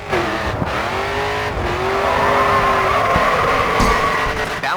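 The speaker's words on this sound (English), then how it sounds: "Continue to turn and the back end will begin to slide out. You'll need to get back on the gas to carry the drift." Car drifting around a corner in the racing video game GRID 2, with a loud sustained engine roar and squealing tires sliding through the turn, close and continuous with no talking.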